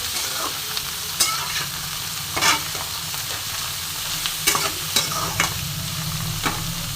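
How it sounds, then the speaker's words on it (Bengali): Vegetables fry in hot oil in a pan, a steady sizzle broken by sharp scraping stirs of a spatula at irregular moments, close and moderately loud with no talking. "সুন্দর করে ভাজাবো।"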